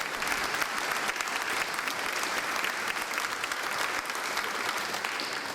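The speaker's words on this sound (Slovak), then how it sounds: "Vyprevádí vás potlesk na miesto." Audience applause at an award ceremony for young oncologists, a dense, steady clapping from a crowd indoors, sustained throughout with no voices over it.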